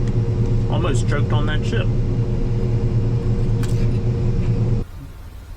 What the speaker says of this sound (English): Still rolling, dumping more beans.